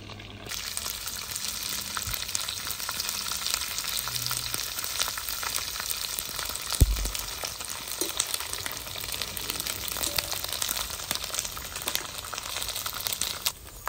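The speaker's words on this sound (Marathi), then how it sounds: "आपण आता नायलॉन साबुदाणा तळायला घेतोय" Nylon sabudana fries in about a litre of hot oil in a wok, a dense, continuous crackling sizzle that holds steady and loud for the whole stretch, with occasional faint knocks and stirring.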